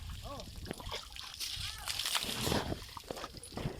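Water sloshes and splashes as an elephant is bathed outdoors, in steady irregular scoops, mixed with voices and a child's chatter close by.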